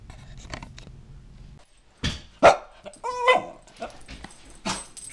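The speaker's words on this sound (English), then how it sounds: "With Chubby the barking dog around" A dog barks several times in short, sharp bursts close by, with a few whimpery yips between them over a quiet background.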